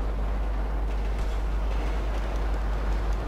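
A train rolls past in GTA V, a continuous low rumble with steady wheel noise throughout, fairly loud and without voices.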